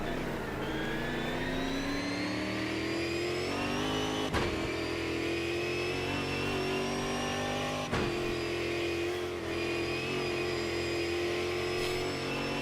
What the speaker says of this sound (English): Let's just appreciate, one, the noise of these cars